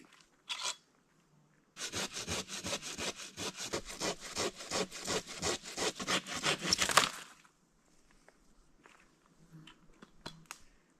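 A hand saw cuts through wood at a remote off-grid cabin in the Canadian wilderness, a fast run of rhythmic rasping strokes lasting several seconds, framed by quiet knocks and handling before and after.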